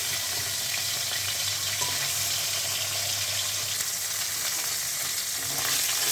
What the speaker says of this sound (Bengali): এই মাছ ভাজা হয়ে গেছে